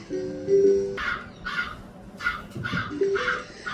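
A crow caws several times in short harsh bursts, fairly close, with a couple of tonal calls in between.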